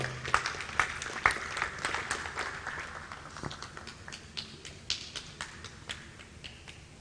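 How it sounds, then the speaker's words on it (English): A round of applause at a formal annual lecture and induction ceremony in Abuja, a faint, steady patter of many hands clapping with sharper individual claps on top, lasting several seconds and slowly thinning out. "Please, a round of applause for him as he comes up."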